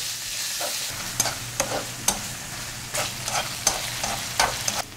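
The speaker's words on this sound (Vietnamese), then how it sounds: "Sau đó mình cho thịt ba rọi vào. Xào lên cho đến khi thịt nó săn lại và bắt đầu ra mỡ." Pork belly stir-fries with garlic, ginger and scallions in a hot pan, a constant close sizzle punctuated by sharp spatula clicks against the pan every half second or so, with no voices.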